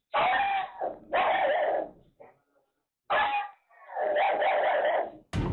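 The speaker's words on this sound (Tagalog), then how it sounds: "bigla raw pumalulong ang kanilang mga aso" Dogs bark and howl at 3 a.m. in several loud bursts with short pauses between, a rough, sustained chorus heard fairly close.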